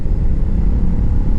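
A Royal Enfield Interceptor 650 motorcycle with aftermarket exhausts rumbles close by, a deep, throaty, steady burble with no voices.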